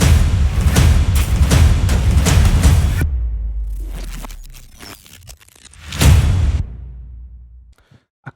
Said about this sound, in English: these are all impact sound.